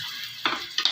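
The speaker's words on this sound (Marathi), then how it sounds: "मी यामध्ये अद्रक लसूणचा पेस्ट टाकत आहे अर्धा चम्मच" Ginger garlic paste, half a spoonful, sizzles and fries in a pan for Manchurian rice, with two close bursts of stirring and crackling over a steady hiss.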